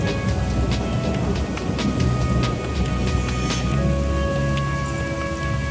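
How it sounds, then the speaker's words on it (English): Steady rain falls with a dense hiss and scattered drop patters, with a faint tonal hum running underneath throughout. "Five millimeters of rain falls every day for weeks on end"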